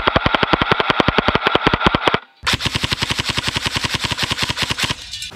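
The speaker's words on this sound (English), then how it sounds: "Now I'm going to shoot the can in the double firing mode." Double Eagle Honey Badger airsoft gun firing at a can in double firing mode: a rapid, evenly spaced stream of sharp loud shots, a brief pause, then another long fast burst that fades at the end.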